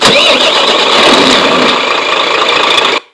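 An old, clattery RC truck engine runs close and loud, a raspy, knocking buzz held steady for about three seconds before it cuts off abruptly.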